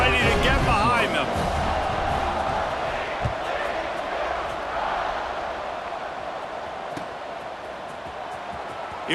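A stadium crowd in EA Sports College Football 26 roars steadily at the kickoff, a dense cheer that swells at first and then gradually fades under a play-by-play commentator's voice.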